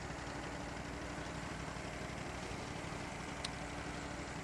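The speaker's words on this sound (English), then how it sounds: "he gets to drive the Linder, the biggest tractor in the game" Steady idling drone of the Linder, the biggest tractor in the farming simulation game Farm Expert 2016, a continuous mid-to-low engine hum running alone at an even level throughout.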